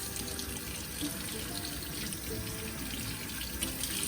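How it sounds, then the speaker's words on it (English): A kitchen tap runs cold water steadily into a sink, a constant close splashing hiss with no voices. "Good cold water from the sink."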